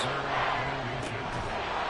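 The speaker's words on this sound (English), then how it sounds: "Well, this crowd trying to force a false start here" A football stadium crowd roaring to force a false start during an NFL divisional playoff game, a dense sustained wall of cheering and shouting.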